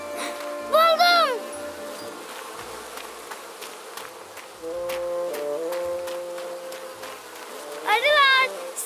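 Cartoon bees buzz in a steady drone that sits under sung, warbling voices, with the buzzing most exposed between the vocal phrases.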